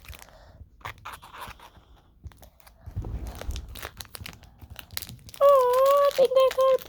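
Crinkling and tearing of a plastic blind bag being pulled open to reach a banana toy, close and intermittent, with a voice speaking and a brief higher-pitched exclamation near the end.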